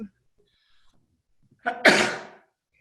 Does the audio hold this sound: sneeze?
yes